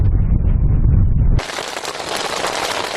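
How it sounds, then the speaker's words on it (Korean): A low, gusty rumble gives way abruptly to a dense, steady hiss of heavy summer rain pouring down on a Central Asian grassland, loud and close. "한 번 오면 퍼붓듯이 내리는 초원의 여름비가 지나갑니다"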